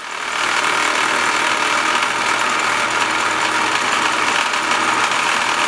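A Falk 1442 toy steam engine runs under live steam, a continuous loud hissing whir with a fast mechanical rattle from the base vibrating against the table, steady throughout with no talking.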